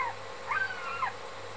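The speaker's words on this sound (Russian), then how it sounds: "это голос слышен с другого сайта, этой самочки, морского орла" A female sea eagle calls faintly from a distant webcam nest site, giving a couple of brief, thin, high yelping notes over a low steady hum.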